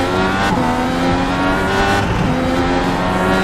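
Indy race cars in the iRacing video game accelerate at the green flag, a dense layered engine roar with several rising pitches overlapping, loud and continuous throughout.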